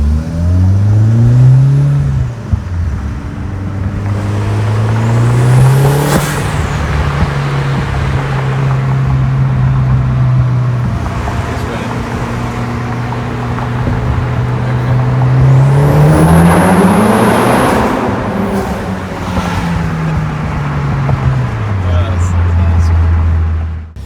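A car engine revs loudly through a tunnel, close by, with several rising and falling pitch sweeps over a steady heavy drone that echoes throughout.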